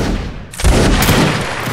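Artillery cannon fire in the game Mount & Blade: Napoleonic Wars, a loud dense burst of booming gunfire erupting after a brief lull and rumbling on with crackling volleys, close and overpowering.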